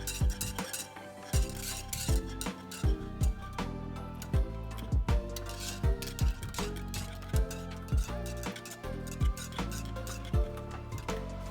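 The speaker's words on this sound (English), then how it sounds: "Make sure to constantly whisk so it doesn't burn." Whisk scraping and clinking rhythmically against a saucepan while custard is stirred, with quick regular metallic strokes close by and no talking.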